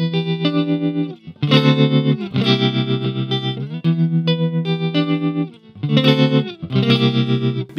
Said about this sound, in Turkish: Bir de tremolo'ya bakalım.